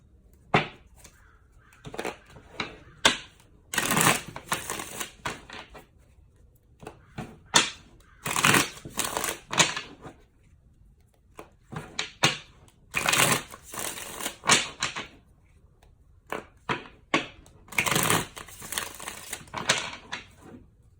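Tarot of Sexual Magic and Romance Angel Oracle cards are shuffled up close in repeated bursts of crisp riffling and slapping, with short quiet pauses between rounds.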